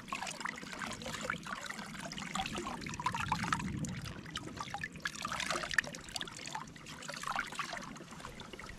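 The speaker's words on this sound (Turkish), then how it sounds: "Bıçağı ben bir suda yıkayayım ilk önce de." Water trickling and splashing as a knife is rinsed outdoors in a highland pasture, a steady moderate flow with small splashes, close by and without talk.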